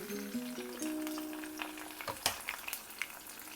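Garlic and curry leaves hit hot oil for a Sri Lankan polos (young jackfruit) curry, giving a steady close sizzle with crackling pops, after a brief tonal beep at the start.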